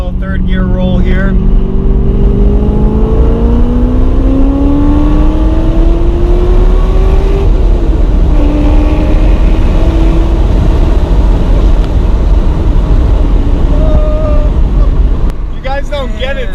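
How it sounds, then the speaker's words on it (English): A Porsche 944 Turbo with an LS V8 swap accelerates in third gear, its loud engine note climbing steadily in pitch, roaring continuously and close throughout the run. "Alright, so it'll be a little third gear roll here."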